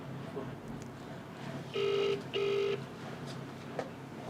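Two short electronic telephone tones sound in quick succession, each steady and moderately loud, over a faint, murky room background.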